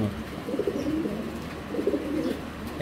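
A king pigeon in a breeding bucket gives two low, throaty cooing phrases close by, each a short rolling coo separated by a brief pause.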